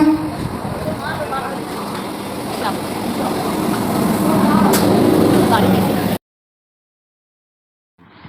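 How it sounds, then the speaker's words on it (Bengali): A train pulls into a station with a rumbling, swelling roar and some squealing metallic tones, close and fairly loud, with voices nearby, then the sound cuts out. "আমাদের ট্রেন এসে গেছে আমরা রেডি হয়ে গেছি ট্রেনে ওঠার জন্য"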